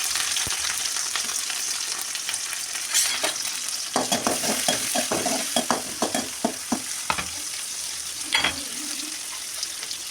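Shallots, green chilies and mustard seeds fry in hot oil, giving a steady sizzle with scattered spitting pops and stirring clatter near the middle, close and moderately loud.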